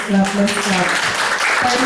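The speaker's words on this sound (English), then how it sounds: "Let's clap." An audience at a child-abuse awareness talk claps briefly, a soft, close patter of hands running under a speaking voice that carries on through most of it.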